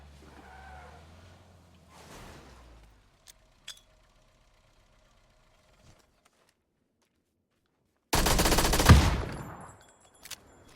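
A loud burst of rapid automatic gunfire in PUBG erupts after quiet stretches with faint footsteps and scattered clicks, close and dense, trailing off.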